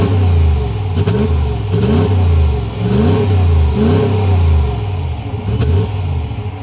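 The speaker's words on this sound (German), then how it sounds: "Auch der Sound des V8 ist natürlich nicht zu verachten." A Ram 1500 Laramie Night with a 5.7L HEMI V8 revs loudly and close, its deep engine note rising and falling in repeated surges with no talk over it.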